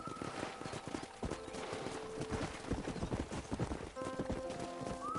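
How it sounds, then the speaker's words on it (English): Horse hooves clip-clop steadily at close range in the Western video game Red Dead Redemption, a fast rhythmic gait with an occasional whinny, set against game music and ambient sound. "That ranch hand said there's a pack of wild horses nearby."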